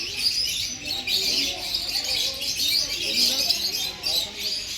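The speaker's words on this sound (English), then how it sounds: "these are love birds" Lovebirds chirp in an aviary at Mysore zoo, a busy chorus of high, rapid tweets at moderate distance with steady crowd murmur beneath.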